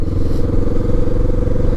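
A motorcycle with a loud, noisy aftermarket exhaust rides steadily, its engine a constant close rumbling drone with slight rough fluctuations and no talk.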